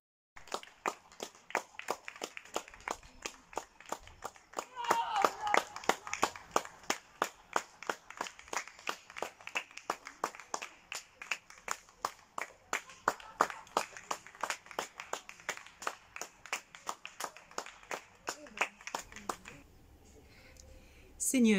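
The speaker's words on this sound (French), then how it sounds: "Quelques applaudissements de 20 h." Neighbourhood clapping at 8 pm, heard as a long run of steady, rhythmic claps that sound a little distant and faint, continuing for about twenty seconds with a brief softer patch near the end.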